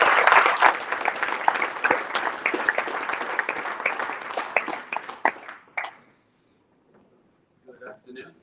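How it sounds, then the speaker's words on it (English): A round of applause at a junior sponsorship awards ceremony, a dense burst of crowd clapping for about six seconds that stops abruptly, followed by a short spoken phrase. "give him a round of applause"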